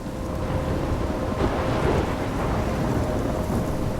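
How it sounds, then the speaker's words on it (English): Thunderstorm with heavy rain in the game Life is Strange Remastered, a steady loud roar of downpour with low rumbling thunder throughout, no voices. "I'm trapped in a storm?"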